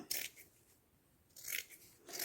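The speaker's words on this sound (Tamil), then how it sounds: "இந்த சைடும் இந்த சைடும் கட் பண்ணிடலாம் பாருங்கள் இந்த மாதிரி நம்ம கட் பண்ணி எடுத்துடலாம்" Scissors snip along the sides of a textile shop bag in two or three close, crisp bursts of cutting, separated by a short pause, with no voices.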